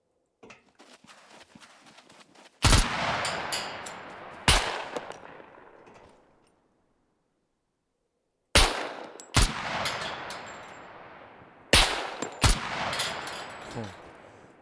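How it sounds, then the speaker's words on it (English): An RPK machine gun firing in the survival video game SCUM, with several sharp, loud gunshots heard as single shots and short pairs, separated by pauses, echoing off into the distance and set against faint background noise. "that RPK's badass, but it's so heavy."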